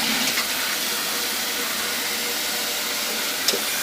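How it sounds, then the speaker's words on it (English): Tap water rushes in a steady loud hiss as it fills a pot of pig feet, continuous and close, with a small clunk near the end and no talking. "we're gonna fill it up to about halfway with water"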